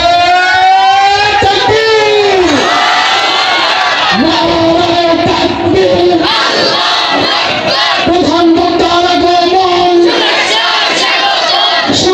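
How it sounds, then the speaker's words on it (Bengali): A large crowd chanting the takbir, Allahu Akbar, in unison for an arriving cleric: loud, close, repeated rising and falling call-and-response shouts that fill the whole stretch. "হুজুরের জন্য একটা তাকবীর দিয়ে দেন"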